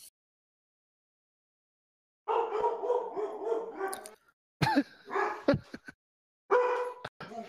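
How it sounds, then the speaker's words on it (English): Dogs bark in Broward County, Florida, after a silent opening, with bursts of rough barking and yips in two clusters separated by a short pause, loud and close. "The doggies are causing havoc."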